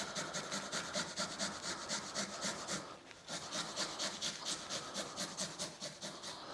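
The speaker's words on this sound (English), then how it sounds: "So I'm just going to use my microplane, and then we're going to chuck it in the onions" Fresh garlic is grated on a microplane. Close, rhythmic rasping strokes repeat steadily, about four per second, with a brief pause midway and no talking.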